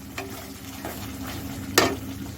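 Chicken gravy is stirred in a pan, a steady close sizzle broken by a few spoon scrapes, one sharper clack near the end, with no voices.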